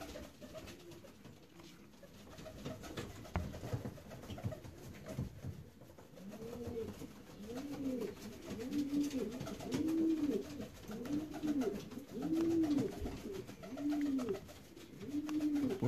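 Racing pigeons coo steadily in a loft, a chorus of repeated rolling calls building and overlapping through the middle and end, close and fairly loud.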